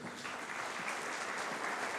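Audience at a panel on archives and transparency applauding to welcome a panelist, a thick, uniform roar of clapping from many people, steady and unbroken for the whole stretch.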